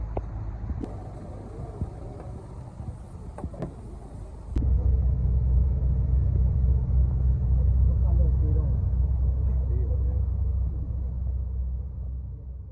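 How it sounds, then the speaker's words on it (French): A bus in Colombia rolling along a road toward Pijao gives a steady low engine rumble that swells louder partway through and holds, with a few sharp knocks and clatters early on. "Ok, deuxième bus direction Pirao."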